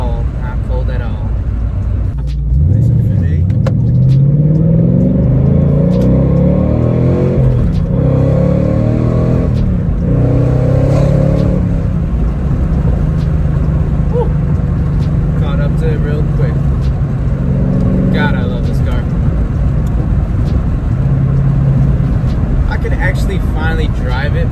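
A Chevrolet Camaro 1LE drives along with a steady, loud engine and road roar that rises and falls as it accelerates, with a person talking over the cabin noise.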